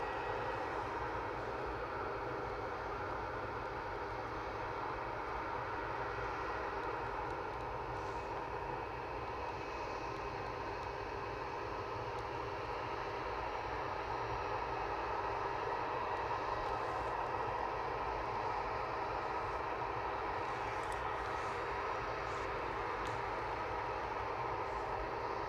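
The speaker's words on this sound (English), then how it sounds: "Just caught the Air France taxiing across there to Paris Charles de Gaulle" An Air France A320 airliner taxis across Manchester Airport at sunset, heading out for Paris Charles de Gaulle, its engines giving a steady, distant jet whine and rumble that holds evenly for the whole stretch.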